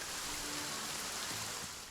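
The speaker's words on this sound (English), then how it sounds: "The rain becomes a torrential downpour, pelting the four of us." Torrential rain from the game Goddess of Victory: Nikke pours in a dense, steady hiss, loud and unbroken, with no voices over it.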